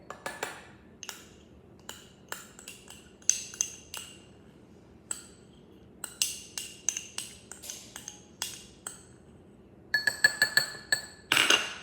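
A spoon stirs mug cake batter inside a ceramic mug, producing a series of sharp, close clinks and taps in uneven bursts with quiet gaps, busiest at the very end.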